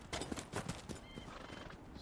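A horse whinnies in the Dragon Age Inquisition video game, the neigh rising near and loud over hoof clip-clops and busy game ambience, lasting about two seconds.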